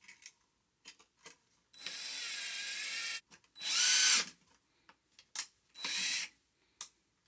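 Power drill driving optional screws to lock down a 4-inch recessed LED light junction box, heard as three separate close bursts of whirring, with clicks and handling noise between them and no speech.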